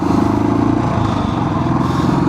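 Motorcycle cruising on a highway on a Delhi to Rishikesh ride, with a steady, loud engine drone and wind rush throughout, no talk.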